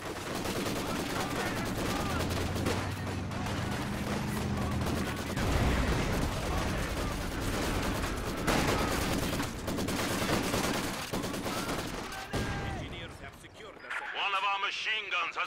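Machine gun fire in a Company of Heroes 2 battle: dense, continuous bursts of shots mixed with other combat noise and in-game voice callouts, loud and sustained throughout.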